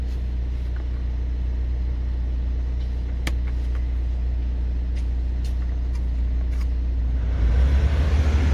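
A 2016 1.6 e-HDi diesel car engine runs at a steady idle, a constant deep rumble with a few faint clicks, and the low throb grows rougher and louder near the end.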